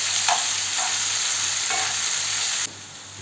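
Steady, crackling sizzle of sulphur shelf mushrooms frying in a hot pan, with a few soft stirring scrapes, continuous and close.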